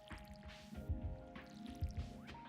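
Watering crops with a watering can in Stardew Valley: a few soft splashing drips in two quick pairs over a quiet music bed.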